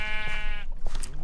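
A Minecraft sheep gives a single nasal, wavering bleat up close, followed by a few faint soft clicks and rustles.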